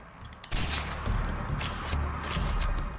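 Gunshots in Far Cry 4 ring out as several sharp, loud cracks spaced over a few seconds against steady background game ambience.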